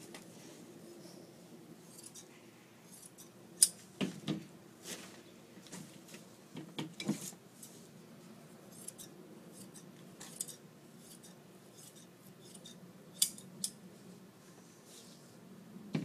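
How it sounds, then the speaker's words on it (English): Scissors snip along the edge of excess Dacron batting on a sofa back cushion being restuffed, a series of quiet, irregular cuts with a few sharper clicks over a faint background hum. "I'll take the scissors and cut right here along the edge."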